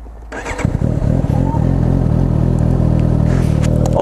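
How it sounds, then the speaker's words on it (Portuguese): Suzuki GSR750 motorcycle carrying a passenger accelerates on a road, its engine rising from idle to a loud, close, rumbling roar with a throttle surge, and no clear talking. "Eu vou dar uma aceleradinha e eu te espero lá, tá no retorno."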